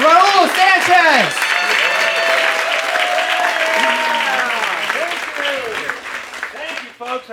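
A comedy club audience applauds as the headliner, a comedian, is brought on stage. The clapping is loud and sustained, and a voice speaks over it before it fades toward the end.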